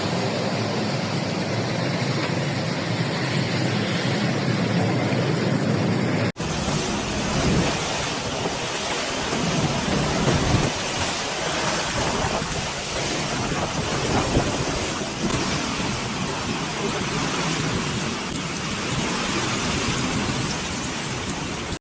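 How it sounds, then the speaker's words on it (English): Relentless hurricane rain pours down steadily in Jamaica as Hurricane Melissa passes, a dense, roaring wash of water that never lets up, with low rumbles of thunder folded into the constant downpour. "The storm's sluggish pace has unleashed relentless rain"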